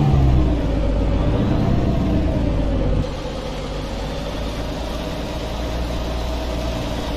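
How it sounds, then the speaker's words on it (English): An old KT engine in a Peterbilt 359 truck in American Truck Simulator rumbles steadily, louder at first, then settles to a lower, even idle drone with no voices. "See how this old KT engine sounds."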